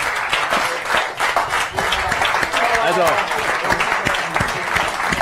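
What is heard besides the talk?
audience applause for the poker dealer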